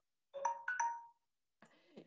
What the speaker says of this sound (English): That's my phone telling me to stop.